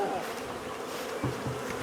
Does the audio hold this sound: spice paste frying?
no